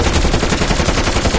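Rapid automatic gunfire in the video game Call of Duty: Black Ops Cold War Zombies sounds as a loud, dense, continuous burst of overlapping shots with no voices.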